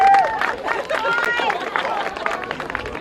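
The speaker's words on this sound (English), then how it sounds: "And a round of applause for our Mini Rock under 10s." Brief crowd applause at a karting prize-giving for the Mini Rock under 10s class, scattered clapping mixed with cheering and lively chatter from the gathered spectators.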